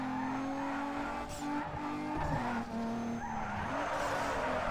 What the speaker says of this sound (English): Some good drifts happening there.